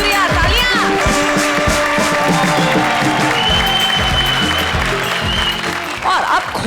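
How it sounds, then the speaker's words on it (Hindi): Studio audience clapping on a Hindi television game show set, loud and sustained applause throughout, layered with music and shouting from the stage. "आने का शुक्रिया, तालियां।"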